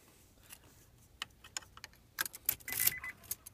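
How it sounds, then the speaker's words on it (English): A new Honda key slides into a car's ignition lock cylinder, giving a scattering of small metallic clicks and jingles that build to a louder cluster of rattling key taps near the end, close and fairly quiet. "We're going to go ahead and put it in the ignition."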